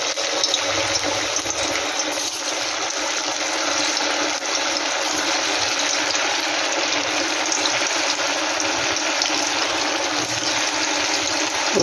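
Sago pakoras frying in hot oil, a steady, dense hiss and sizzle that fills the whole stretch evenly and close up, with no talking over it.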